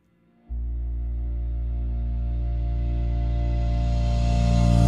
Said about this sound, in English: we wanna double click and reverse the sound